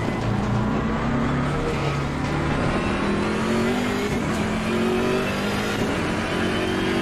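A racing car in Mexico is driven hard through corners, its engine roaring loudly and steadily with rising and falling pitch as it revs and shifts, with no talk over it.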